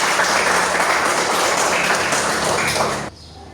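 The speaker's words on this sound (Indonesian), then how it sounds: "Tepuk tangan dulu untuk kita semua." A class claps together in a dense, even burst of applause lasting about three seconds, then it cuts off abruptly.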